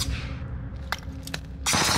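Gunfire in the video game Call of Duty Warzone: a fading shot echo, then a few sharp isolated reports and a burst of rapid automatic fire at the end, fairly loud against a low hum.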